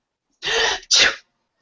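A single loud, close sneeze in two bursts, a sharp inhale-like start followed by a forceful expulsion, then silence.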